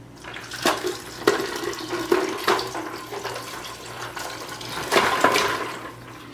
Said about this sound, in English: Got the stopcock closed to go ahead and pour this in.